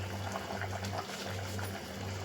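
A pot of spicy curry bubbling at a steady boil, with soft popping and gurgling over a constant low hum, heard up close without any voices.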